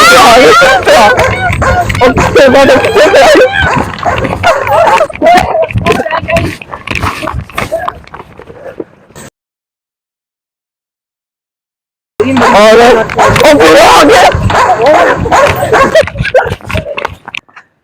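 Dogs bark and yap in a residential colony beside a large open ground, loud and frequent under constant excited talk from people nearby, cutting out to silence midway before the commotion resumes.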